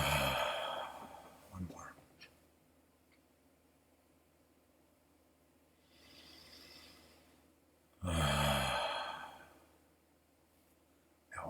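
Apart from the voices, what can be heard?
deep breaths during guided meditation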